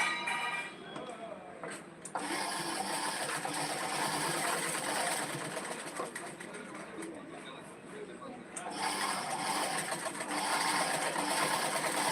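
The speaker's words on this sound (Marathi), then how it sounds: "शिलाई व्यवस्थित मारून घ्यायचा आहे" A sewing machine stitches the joint of a designer blouse with a fast, steady mechanical whir and rapid needle ticking, running under someone speaking nearby.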